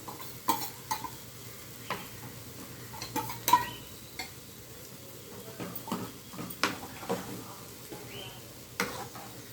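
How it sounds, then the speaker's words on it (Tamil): Ladle stirring banana stem kootu and mashing it with its back: close, irregular scrapes, soft knocks and light clinks against the pot, steady throughout with a faint low background hum and no talking. "நல்லா கரண்டியில் பின் பக்கம் நல்லா குழச்சி விட்டுப்போம்."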